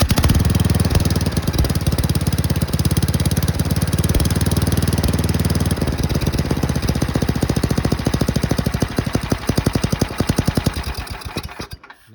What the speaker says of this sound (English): now we're gonna fire this up